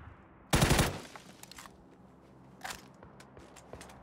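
M4 rifle fire in the battle-royale game PUBG: one loud, close, rapid burst of automatic shots, followed by a few fainter distant reports and small clicks.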